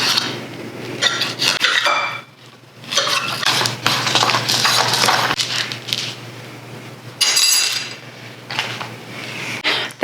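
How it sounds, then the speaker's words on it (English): A curved knife slices through food on a board, making steady scraping and rasping strokes with occasional clinks, loud and close, with brief pauses between cuts. "I'm gonna cut with a curved knife here."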